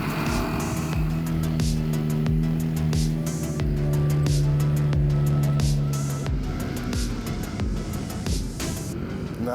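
A modified Ford Expedition driving off-road in sand at Sand Hollow, its engine droning loud and steady with rising and falling revs, tires churning, passing close with no talk.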